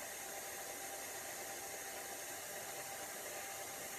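A pasta machine runs with a steady, even whirring hum as dough goes into the feeder, constant and fairly faint with no voices.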